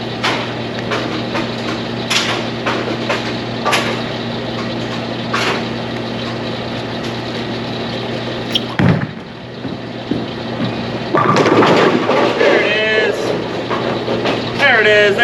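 An Arctic Vibe symmetrical bowling ball rolls down the lane with a steady rumble, then crashes into the pins in a loud scattering clatter near the end, with a voice talking partway through.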